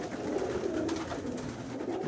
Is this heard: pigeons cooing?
yes